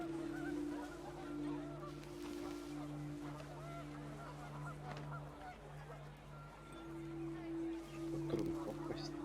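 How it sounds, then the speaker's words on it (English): Panicked geese honk in the video game What Remains of Edith Finch, a cluster of repeated nasal calls over a sustained low drone with windy background noise. "panicked geese appeared and quickly went"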